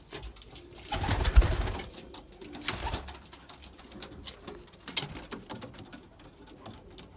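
Young racing pigeons cooing softly, faint and low in a quiet loft with light fluttering and patter.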